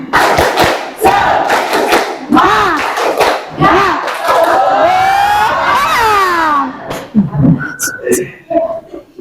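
High school students in a classroom at SMA N 8 Lubuklinggau perform a spirit clap chant, shouting and yelling together in loud rhythmic bursts with claps, followed by scattered voices as it winds down.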